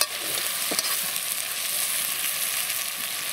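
Steady sizzling and frying with faint scraping as onion and vegetables are stirred in a hot cauldron, continuous and close.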